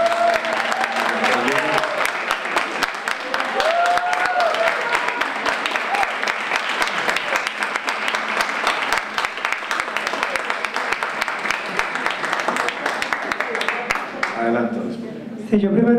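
Audience applause at a Costa Rica 2018 vice-presidential candidates' forum, a broad sustained wash of clapping lasting about fourteen seconds before fading, with a voice speaking over the end.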